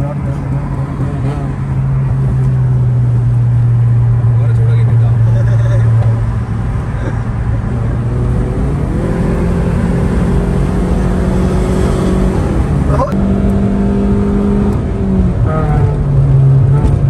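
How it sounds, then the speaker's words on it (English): A Hyundai Genesis Coupe engine idles and then revs up in several rising, held pulls, its exhaust loud and close, with a brief sharp blip near the end. "let's hear the exhaust note of this beast right here"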